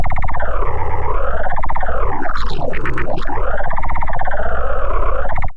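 A deep, buzzing wavetable synth tone in Vital drones at a very low pitch, its timbre warbling and sweeping up and down continuously, loud and steady until it cuts off.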